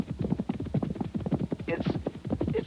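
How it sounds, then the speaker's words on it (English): Radio-drama sound effect of horses' hooves approaching, a rapid, steady clip-clop rhythm of several riders, close and fairly loud, with no voices over it. "It's the sheriff's men coming on horseback."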